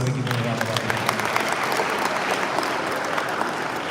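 A seated audience claps for the Labour Party national chairman at a traditional rulers' council session in Akwa Ibom, a dense, even roar of hands close by that continues throughout, with faint voices beneath it.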